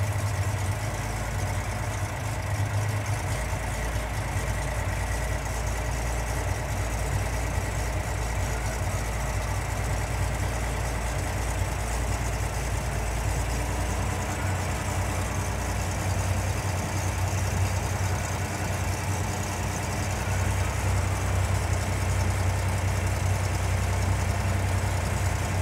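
An engine with Weber DCOE carburetors idles steadily for the whole stretch, a loud, even low rumble with a constant droning hum and no voices.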